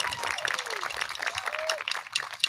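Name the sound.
audience applause for award recipients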